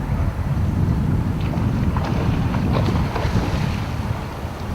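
Fishing boats coming into a harbor at Gold Beach, heard as a steady low rumble of engines and water with strong wind buffeting close up, continuous and fairly loud, with no voices.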